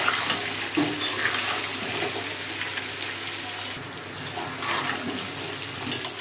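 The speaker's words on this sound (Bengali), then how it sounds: "নুন হলুদ আর লঙ্কার গুঁড়োটা মিশিয়ে আলুটা ভেজে নেব" Potatoes fry in oil with salt, turmeric and chili powder, making a continuous close sizzle with occasional stirring scrapes and no talking.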